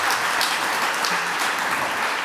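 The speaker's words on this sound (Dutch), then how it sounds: "Mag ik een waanzinnig applaus voor mijn gasten." A Dutch television studio audience applauds guests on an arts talk show, a dense, even roar of clapping that holds steady and loud throughout with no voices over it.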